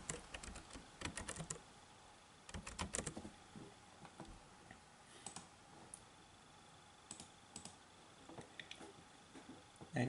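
Typing on a computer keyboard while entering commands in Matlab, with fast bursts of close key clicks separated by short pauses, no voices.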